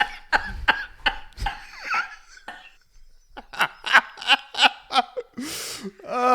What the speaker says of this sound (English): if I'm going to laugh hard, it just turns into a coughing fit